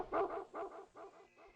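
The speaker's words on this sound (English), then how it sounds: "there's a dog barking" Dog barking in the 2009 FPS Creator zombie shooter Trait 17, from a zombified dog creature: a run of four or five fairly quiet, evenly spaced barks, alone with no talk.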